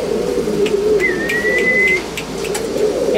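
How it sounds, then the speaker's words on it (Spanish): Several pigeons coo steadily in a breeding loft of racing birds, a continuous low warbling murmur with a brief thin whistle-like tone over the middle and faint scattered clicks. "Está linda la paloma esa"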